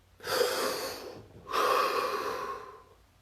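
A deep breath, drawn in slowly and then released in a long, steady exhale, close to the microphone with a short pause between the two, alone and with no talk.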